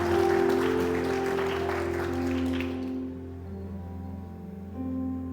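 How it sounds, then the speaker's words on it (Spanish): Church congregation applauding during a Spanish-language worship service, a broad wash of clapping over sustained organ or keyboard tones that fades after a few seconds while the music carries on. "denle un aplauso al Señor"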